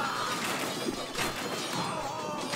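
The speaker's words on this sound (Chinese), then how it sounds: "哇，爆炸的！" Explosions in the strategy game Age of Empires II: Definitive Edition burst out as short crashing impacts within a dense, continuous wash of battle noise.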